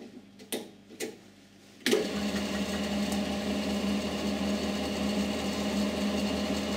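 A small test generator starts up and runs under a 10-watt, 12-volt light bulb load, giving a steady mechanical whir with faint ticking that follows a few soft clicks.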